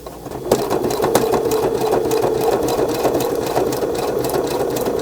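A sewing machine stitches fabric along the cover of a nature journal, running in a steady, loud mechanical whir from start to finish, close and unbroken by speech.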